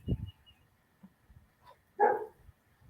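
A big white dog gives a couple of sharp barks, one at the start and a louder one near the end, with quiet gaps and faint whimpers between.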